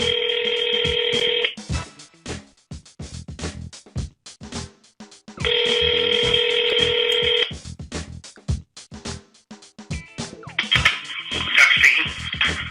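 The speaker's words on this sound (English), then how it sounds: "please hold while I transfer your call" Telephone hold and transfer tones play on a business phone line: repeated steady electronic tone bursts separated by clicky line noise and faint crackle, with a final warbling ring-like tone.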